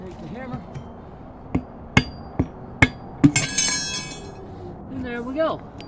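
Several sharp hammer blows land at uneven intervals on a rubber tire being fitted by hand, with clinking and brief talk in between.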